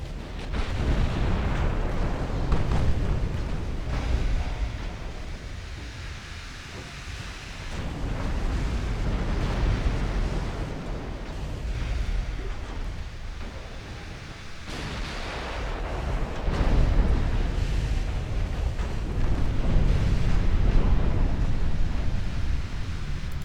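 Shells from 5-inch guns burst in a 1930s British naval warfare game battle: a dense, continuous roar of explosions and rumbling blasts, loud and sustained, swelling and easing in waves.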